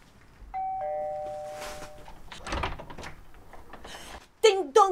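A two-tone doorbell ding-dong chime rings out clearly near the start, followed by voices and movement and a burst of bright sung notes at the end, in a festive comedy performance setting.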